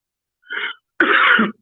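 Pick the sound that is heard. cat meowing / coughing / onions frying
coughing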